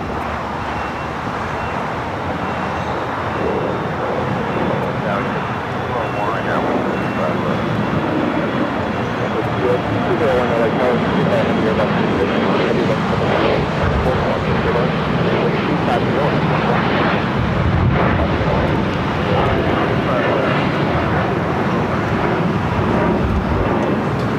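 An Alaska SkyWest Embraer E175 regional jet takes off from runway 25 right at LAX, its engines making a loud, broad, sustained roar that swells and holds, with faint radio talk mixed in.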